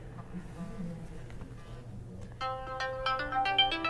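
A phone ringtone, a bright melodic electronic tune, starts partway through and plays loudly over low background room noise during a school morning announcement.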